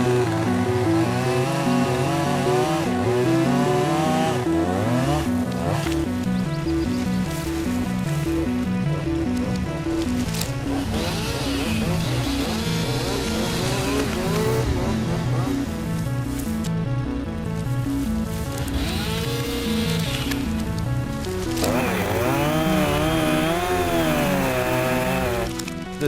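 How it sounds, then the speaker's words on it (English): Chainsaws cut through an overdense conifer stand, their engines whining and revving up and down in overlapping, continuous drones that never let up. "to fix the forest, the people invented chainsaws"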